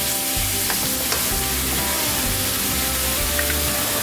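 Pork sizzling and frying in its own rendered fat for an Ilocano dinuguan, a steady close crackle and hiss with occasional stirring scrapes and no voices.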